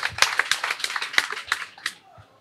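Audience clapping at a Guinean public gathering celebrating General Mamadi Doumbouya in Kindia, a burst of close, uneven hand claps that thins out and fades near the end.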